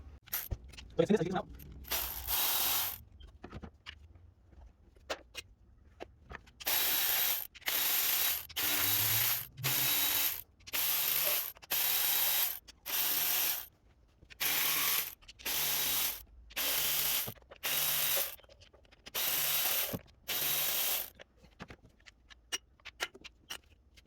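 A ratchet wrench backs out 10mm bolts on a 2015 Mazda CX-5 engine during valve cover removal, repeated bursts of rapid clicking with short pauses between them, close and clear, after a few brief opening clanks.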